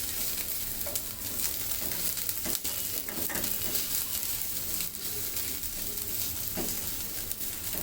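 Food frying in a pan for a bottle gourd leaf mash, a steady broadband sizzle with occasional stirring scrapes and clinks, close and continuous with no talking.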